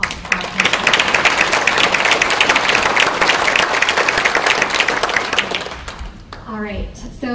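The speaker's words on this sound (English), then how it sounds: "let's have a quick round of applause for our panel" Audience applause for a panel at a forum on human trafficking, a steady wash of many hands clapping that holds for about six seconds, then thins out as a voice begins talking near the end.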